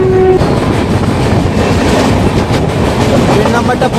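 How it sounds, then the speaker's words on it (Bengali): A fast-moving train passing Shahjahanpur roars continuously with rhythmic clatter of wheels on the rails, loud and close, with a brief tonal horn-like note at the start. "শাহজাহানপুর থেকে বেরিয়ে গেল ট্রেনটা।"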